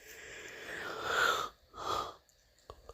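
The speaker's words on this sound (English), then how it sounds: "Sorry guys if you hear me yawning." A person yawning during a round of disc golf, giving a long drawn breathy exhale that swells and fades, followed by a shorter second breath, close and fairly quiet.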